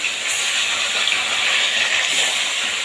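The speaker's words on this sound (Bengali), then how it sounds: "এবার একে একে আমি মাছগুলো তেলের ওপর দিয়ে ভালোভাবে একটু টুপিট করে লাল লাল করে ভেজে নেব" Fish rubbed with salt and turmeric sizzling in hot oil for a Bengali fish curry, a steady bright hiss of frying that stays loud and even throughout with no voices.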